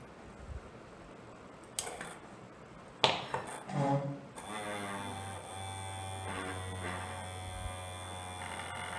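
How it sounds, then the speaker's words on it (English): A small battery-powered vibration robot on a simple plate is switched on after a few clicks and handling knocks, then its little motor and propeller buzz with a steady, close, high-pitched whine. "So we are using a battery, motor and a switch and a propeller to move an object."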